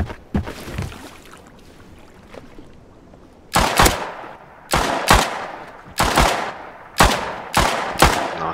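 Video game gunfire on an oil rig map: scattered shots early, then a steady run of about six loud single shots roughly once per second, each ringing out with a short decaying tail.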